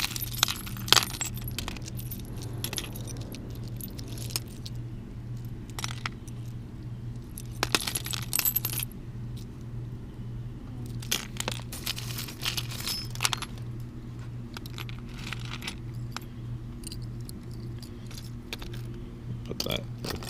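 Metal keychains jangle and clink repeatedly while jewelry is sorted by hand, with bursts of rattling scattered over a low steady background hum.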